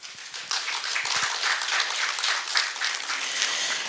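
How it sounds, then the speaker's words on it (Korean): Audience applause fills an awards ceremony hall for the 29th Buddhist Press Culture Awards, a dense, steady wash of many hands clapping that holds at an even level for a few seconds. "심사평을 해주신 심사위원장 김광균님께 다시 한번 큰 박수 부탁드리겠습니다"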